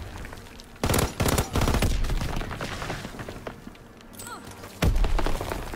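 LMG machine gun fire in Call of Duty WW2, loud sustained bursts of rapid gunfire with thumping impacts in an online match, starting and stopping in a few long volleys.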